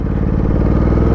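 Ducati Diavel 1260 twin-cylinder motorcycle engine in sport mode, a loud close rhythmic throbbing rumble with a steady pulsing beat, running alone without talk.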